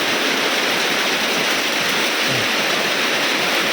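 Heavy rain pouring during a storm that batters a house, a loud, steady, dense rush of broadband noise with no breaks, close and enveloping throughout.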